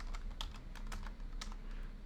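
Someone types on a computer keyboard during a live stream, a quick run of light, irregular key clicks, close but fairly quiet, with no one talking.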